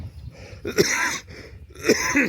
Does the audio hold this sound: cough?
yes